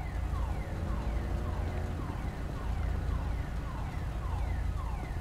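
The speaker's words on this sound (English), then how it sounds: "There's a car alarm going off somewhere." A car alarm blares in a video game roleplay, its repeating rising whoops cycling steadily and loudly over a low rumbling background, with no talking.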